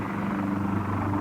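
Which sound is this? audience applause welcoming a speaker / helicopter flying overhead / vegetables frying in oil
helicopter flying overhead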